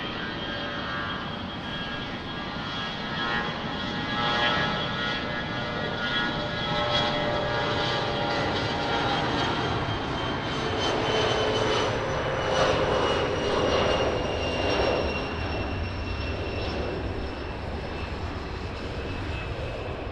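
An airliner takes off from runway 20 at Lisbon Airport, with a sustained broadband engine roar and a high turbine whine that builds and swells over twenty seconds, loud and continuous.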